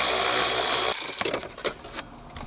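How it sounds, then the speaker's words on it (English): A ratchet with a 7mm socket backing screws out of a GM squarebody truck's shift selector, a rapid run of clicks after a loud noisy start, close by and without talk. "A 7mm socket, we'll get these guys out."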